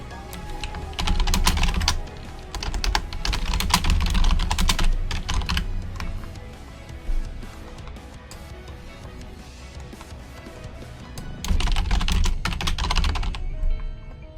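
Continuous fast typing on a computer keyboard, loud and close with dense clattering keystrokes, easing slightly midway and picking back up toward the end, with no talking.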